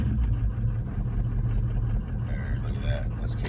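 A car engine after a cold start ticks over at a steady idle, with a low, even rumble that holds close and loud throughout and barely changes.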